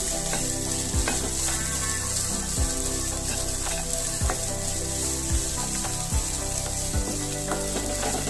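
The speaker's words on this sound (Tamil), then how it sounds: "இதையும் நல்ல வாசனை வருத வரை வறுத்துக்குவோம்" Grated coconut dry-roasts in a pan for modak kozhukattai. A constant close sizzling rustle is punctuated by regular scraping strokes of a spatula, with a low hum underneath and no talk.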